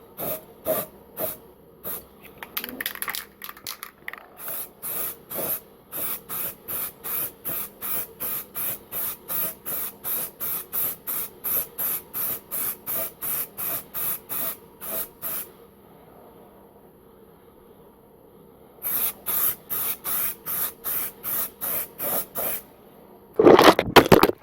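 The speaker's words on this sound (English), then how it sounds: "We're going to spray that all red in the centre." An aerosol can sprays in rapid repeated short bursts, a loud rhythmic hissing that stops for a few seconds, then resumes before a final harsher spurt.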